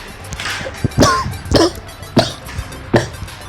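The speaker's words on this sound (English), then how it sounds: "Coughing." Several sharp coughs in a row, close and fairly loud, spaced about half a second apart, with faint background music underneath.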